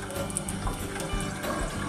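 Warm tap water pours from a faucet into a sink, a continuous close splashing rush with no break.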